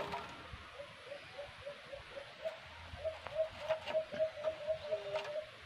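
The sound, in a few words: caged bird calling loudly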